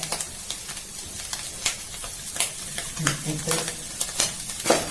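Sliced onions frying in a pan for clam fry biryani: a steady close sizzle and hiss with occasional scraping stirs and crackles.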